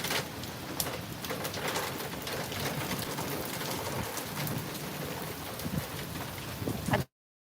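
Rain during a thunderstorm patters steadily on the top of a cooler outdoors, a dense continuous drumming heard close from a doorway, with birds faintly calling, ending abruptly.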